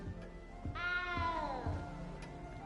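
A cat in the video game Hogwarts Legacy lets out one clear, drawn-out meow with a falling pitch, close and alone against quiet background ambience.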